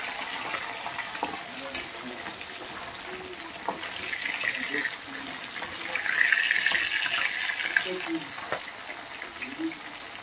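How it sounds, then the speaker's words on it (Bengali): Bhola fish frying in hot oil, a steady soft sizzle with occasional crackles and spatters that swells briefly midway, close by with light kitchen clatter. "আর মাছগুলোকে আমি খুব ভালো করে ভেজে নেব।"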